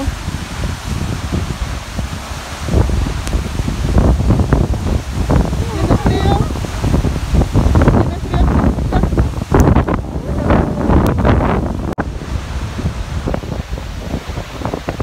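Spray blown from a cold mountain waterfall gusts against the microphone, a loud roaring wind-and-water rush with leaves rustling nearby and bursts of buffeting.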